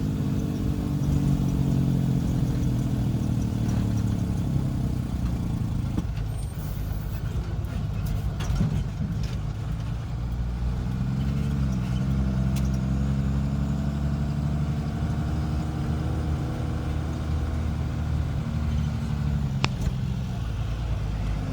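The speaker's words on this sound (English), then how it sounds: "drive the feed truck over to where he can unload the feed" A feed truck drives past a dairy barn, its medium engine running at a steady moderate level with a shifting drone as it rolls along, and no talking.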